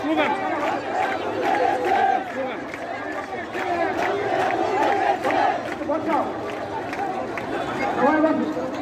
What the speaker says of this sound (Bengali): স্লোগান